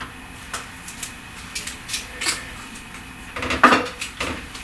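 An ordinary spoon stirs fragrance oil into melted candle wax in a container, giving a series of irregular light clinks and taps against the sides, with a louder cluster of knocks near the end.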